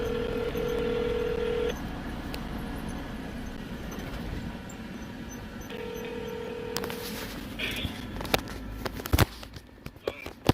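A phone call rings out from inside a truck cab. Two long tones sound over a steady road rumble, followed by clicks and knocks.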